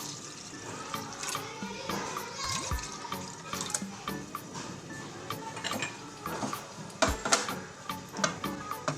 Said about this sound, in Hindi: दूध आधा हमें इसमें डालना है